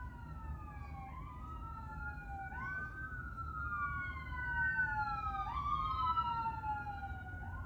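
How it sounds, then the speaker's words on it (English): Ambulance siren wailing as it travels down a road, rising and falling sweeps repeating steadily, loud and fairly close over low traffic rumble, growing slightly stronger toward the end. "So we have an ambulance coming down the road."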